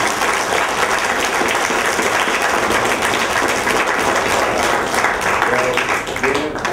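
Event audience breaking into loud, sustained applause, dense continuous clapping from a large crowd with a few voices mixed in.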